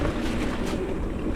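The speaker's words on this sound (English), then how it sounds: "Got a little wind. Hopefully that wind muffler's working good for you guys." Wind buffeting a microphone while riding down the North Canyon trail, a steady, loud low rumble with a broad hiss and no break over its short length.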